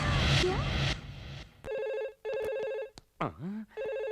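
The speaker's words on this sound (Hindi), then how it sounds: "किसका फोन हो सकता है?" A telephone rings in repeated electronic bursts after a noisy stretch, with a swooping sound effect between rings.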